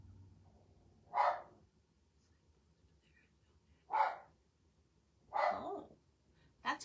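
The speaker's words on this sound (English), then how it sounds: "Sorry if you can hear my little dog" A small dog barks indoors, with four short, separate yaps spaced a couple of seconds apart over a quiet room.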